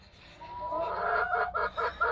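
A rooster on a farm with a hen coop calls out in a clear, fairly close crow that rises into several loud pulsing bursts, with no talking over it.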